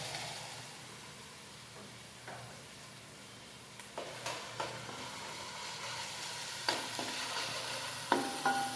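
Coconut paste and ginger paste fry quietly in a pan, a soft low sizzle broken by scraping stirring strokes that grow sharper and more frequent toward the end.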